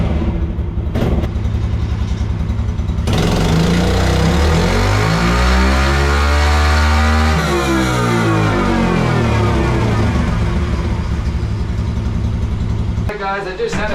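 A stock Yamaha TTR 110 pit bike engine on a dyno, loud and close, rising through a long revving pull to a high whine before dropping back to idle.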